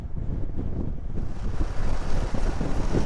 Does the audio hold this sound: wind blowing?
yes